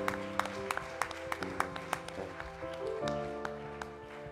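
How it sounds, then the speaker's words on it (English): A church congregation claps in praise, sharp claps landing in a steady rhythm over sustained keyboard or organ chords that shift partway through. "Let's give the Lord one more good hand clap of praise."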